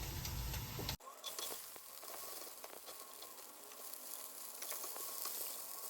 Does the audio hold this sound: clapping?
no